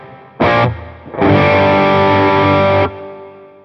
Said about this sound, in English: Let's try the reverb now.